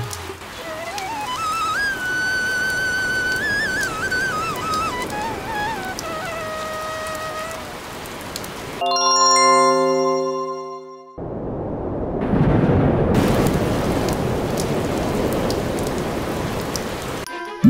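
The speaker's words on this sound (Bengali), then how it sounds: "সেই সাথে বাইরে আবারও বৃষ্টি শুরু হলো।" A steady broadband hiss of cartoon rain fills the second half of a Bengali fairy-tale animation, following a stretch of background music and a sustained tone, with no voices.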